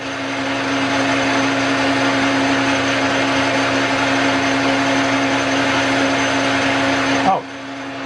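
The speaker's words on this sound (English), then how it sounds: "Hear the racket from the power feed mechanism." Power feed mechanism on a power hammer running in an aluminum hammer lab, a loud continuous mechanical drone and racket that holds steady, then drops off with a brief clunk near the end.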